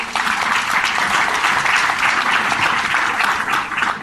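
An audience at a public talk gives loud, dense applause, continuous clapping throughout with no speech over it.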